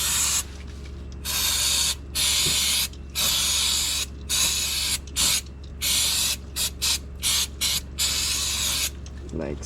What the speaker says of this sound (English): Now we're going to use the brake cleaner just to spray all this